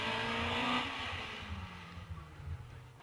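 An 1100cc racing car engine roars loudly at a hillclimb, then fades as the car accelerates away, with rumbling engine noise continuing underneath.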